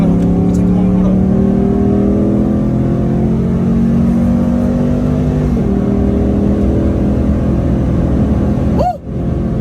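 A 500hp Pontiac G8 GT pulls hard under acceleration, its engine note climbing steadily through a sustained rev before a quick gear shift and a sharp drop near the end, with voices heard inside the car.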